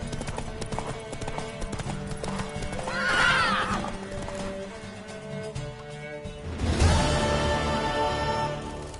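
Horse sounds from The Witcher 3 video game: loud whinnying neighs rise twice over a steady game soundscape, with hoof clip-clops mixed into a busy layer of music and ambience.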